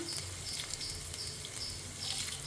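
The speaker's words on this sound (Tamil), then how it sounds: "இதெல்லாம் போட்டு நல்லா தாளித்து வறுத்து அதில் கொட்டிக்கலாம்" Shallots, curry leaves and broken dried red chillies sizzling in hot oil for a paal kappa tempering, a steady close crackle and hiss throughout with no talk.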